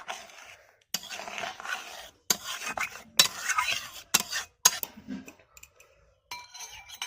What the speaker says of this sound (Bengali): এবার ভালো করে নাড়াচাড়া করে আমি এটা নামিয়ে নেব